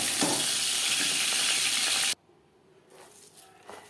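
Chopped onions hit hot oil left from frying pangas fish, giving a loud, close, steady sizzle for about two seconds before it abruptly drops to a quiet background with faint stirring clinks.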